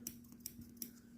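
New cross-stitch embroidery scissors snip a few times in quick succession, three light metallic clicks close by over a faint steady hum.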